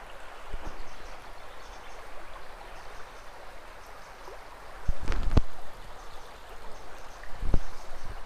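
A river flows steadily along a coastal walking route near Warkworth, a soft continuous rushing wash with a few sharper splashes and knocks breaking through near the end.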